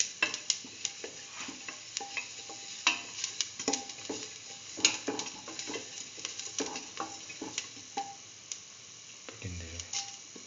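Fennel and coriander seeds frying in a pan, a light crackling sizzle with frequent small pops and stirring scrapes, fairly quiet and steady, ending with a soft clunk.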